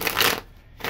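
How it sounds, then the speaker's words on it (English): Tarot cards being shuffled by hand, a short close riffle of papery flutter in two quick bursts with a brief pause between, fairly quiet and without talk. "we're going to shuffle the cards here"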